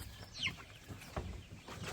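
A young chick in a backyard coop gives a few soft, close clucks and peeps against faint background rustling, quiet and brief with no talking.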